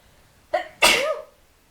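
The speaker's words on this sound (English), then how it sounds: "I'm going to sneeze" A single sneeze, a short sharp intake followed by an explosive burst, close and clear against near silence.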